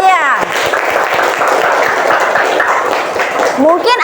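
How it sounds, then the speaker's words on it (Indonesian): Classroom of children clapping together, a brisk burst of applause bracketed by brief teacher talk at the start and end. "Tepuk tangan untuk Aulia"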